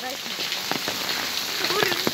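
Steady rain falls outdoors near a school, a continuous soft patter of drops on surfaces with scattered closer drips, moderately loud and unbroken throughout.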